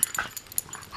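A dog gives short, faint whines and yips in a brief, close burst of squeaky high-pitched cries, heard alone without talking.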